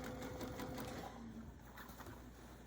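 A sewing machine quilting with a serpentine stitch, its fast even mechanical whir steady and fairly close throughout, with no talking.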